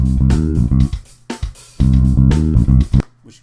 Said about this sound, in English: we drag in Groovy Electric Bass 4